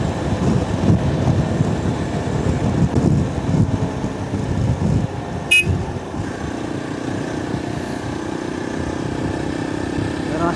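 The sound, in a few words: vehicle being driven at full speed on the road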